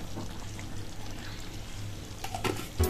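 Ghee poured into a pan of thin sabudana khichuri with raisins and sugar, a soft continuous trickle over a low kitchen hum, ending in a brief clink near the close.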